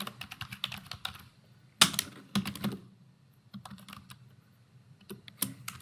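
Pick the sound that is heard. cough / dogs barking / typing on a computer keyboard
typing on a computer keyboard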